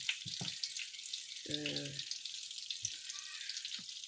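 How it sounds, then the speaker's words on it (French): Red palm oil warming in a pan for a Cameroonian yellow sauce, giving a steady faint sizzle throughout, with a short tonal clatter and a few soft knocks of the pan or utensil. "Donc on va chauffer notre huile, mais pas suffisamment."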